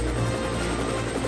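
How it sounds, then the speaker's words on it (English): Animated train show: a helicopter's steady whirring drone as it touches down in snow, continuous and fairly loud for a brief moment with no talk. "With landing lights shining brightly, Harold the helicopter touched down gently in the snow."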